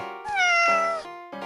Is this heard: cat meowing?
yes